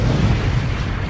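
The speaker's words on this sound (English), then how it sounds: "Tran has a perfect score, so Tran gets... an explosion" A loud, steady rumbling blast plays as a celebratory sound effect for a perfect score, a dense roar filling the short moment with no voices over it.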